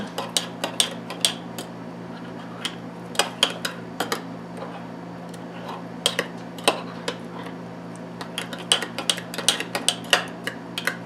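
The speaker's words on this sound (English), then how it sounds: "Let's give that a stir." A spoon stirs almond milk into keto overnight noatmeal, giving rapid, irregular clinks and taps against the container over a steady low hum, with no talking.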